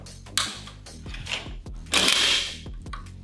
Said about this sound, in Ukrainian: і затвор затворною рамою встає на своє місце